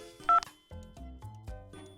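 Telephone keypad tones sound in quick succession, a sharp beep followed by a run of short evenly spaced tones that sit over soft background music.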